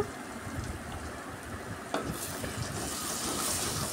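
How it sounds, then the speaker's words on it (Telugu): Onion and eggplant pieces cook in a pan with salt, giving a steady, soft sizzle and bubbling stew sound with occasional stirring scrapes, close and continuous throughout. "ఉల్లిపాయ వంకాయ కలిపి మగ్గుతుందండి"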